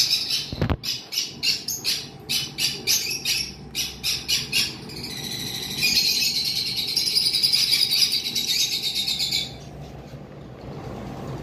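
Caged pet birds at a bird shop chirp in a fast, repeated rhythm. A loud, shrill squawking trill then takes over for several seconds before it drops back to quieter calls.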